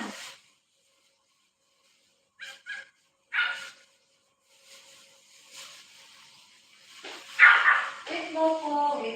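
A dog gives a few short, scattered barks and yips against quiet gaps, ending in louder whimpering, whiny vocalizing with a person speaking faintly.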